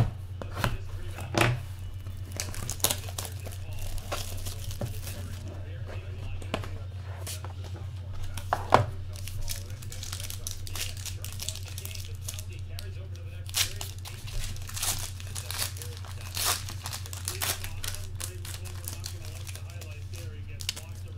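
A trading card pack is torn and crinkled open in sharp, irregular bursts of ripping and crumpling over a steady low hum, fairly close and quiet.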